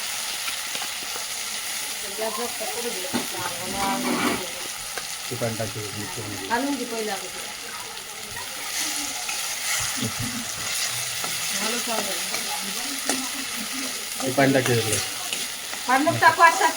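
Chicken with ginger-garlic paste sizzles steadily in a pan over medium heat while it is stirred, with scraping and clinks under ongoing speech throughout.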